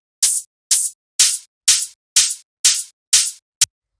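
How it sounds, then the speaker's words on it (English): A layered hi-hat drum sample used in electronic music production plays eight short, crisp, bright ticks in a steady rhythm, the final one clipped short, isolated and close with no voices. "After that, we have this hi-hat, which sounds like this."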